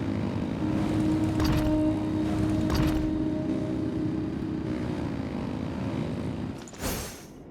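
Aircraft engines rev up in Genshin Impact, a steady loud drone with a low tonal hum that holds throughout, then a brief swell and rush near the end.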